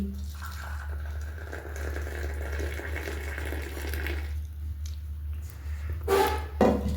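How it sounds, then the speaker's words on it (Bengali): Freshly made Nescafe, brewed at home without a coffee maker, poured into a cup: a steady liquid trickle runs for a few seconds, then fades, followed by a couple of brief clinks near the end. "এবার আমি কাপের মধ্যে ঢেলে নিচ্ছি।"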